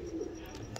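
A female Teddy pigeon gives a soft, low cooing murmur, faint and close, with a brief rustle near the end.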